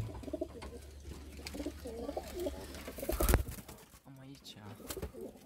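Pigeons, including young birds, coo softly in a loft in Galați, Romania, in low rolling calls close by while someone speaks briefly.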